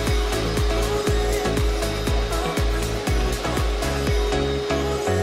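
A household vacuum cleaner runs loud and steady during family house cleaning, with a repeated rhythmic scraping or thumping pulse as it is pushed back and forth across the floor.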